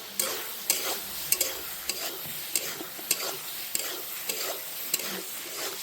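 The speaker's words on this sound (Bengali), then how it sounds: "আলুটা সুন্দর করে মশলার সঙ্গে মিশিয়ে নেব।" Potatoes are stirred with spices and curry leaves in a frying pan for alur dom, with a continuous sizzle under repeated sharp spatula scrapes and knocks in an uneven rhythm.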